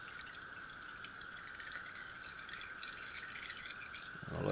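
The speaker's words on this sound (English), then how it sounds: "I'll let it drip for a little while." Light liquid dripping onto the right-side bearing of a Sturmey Archer RX-RF5 five-speed bicycle hub, a faint, steady patter over a quiet background.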